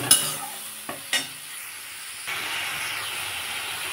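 Tomatoes stirred with a spatula in a pan for rohu fish jhal, a few sharp scraping taps of the metal utensil early on, then a rising steady hiss of sizzling steam.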